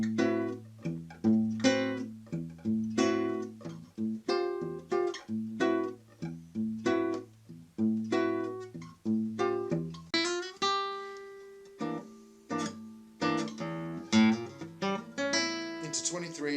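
Classical guitar playing bars 21 to 22 of Roland Dyens' Tango en Skai, a B-section passage of plucked chords and bass notes in a rhythmic tango pulse, with brief rests before a faster run of single notes near the end.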